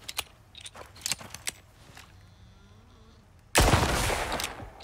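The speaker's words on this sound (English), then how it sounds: "next up, we have the explosive pistol ammo" Explosive pistol ammo fired in the Icarus video game: a few sharp clicks and shots, then one loud blast whose roaring burst rings on for over a second.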